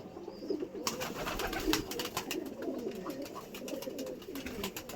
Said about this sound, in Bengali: আর পায়রা দেখো সব ওকে এবং ফিট